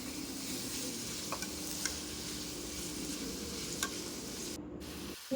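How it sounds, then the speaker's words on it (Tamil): Capsicum and chopped tomato stirred in a pan for prawn noodles, a steady low frying hiss under a few faint spatula scrapes, with no voices. "அதையும் நல்லா கலந்து விட்டுக்கோங்க"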